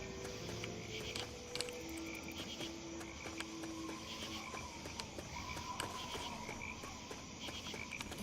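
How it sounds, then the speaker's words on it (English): Many frogs croak in a steady chorus in the Fallout 3 wasteland, a layered background of overlapping calls at moderate distance with no talking over it. "Lots of frogs around, it sounds like."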